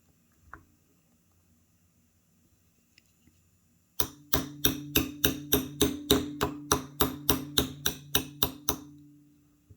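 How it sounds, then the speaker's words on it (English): Hammer striking a punch to drive the pins out of a Sig P320 X-Carry CO2 BB pistol on a block: after some quiet, a steady run of about fifteen sharp, close, loud metallic knocks in a regular rhythm. "we're going to knock out these 2 pins here."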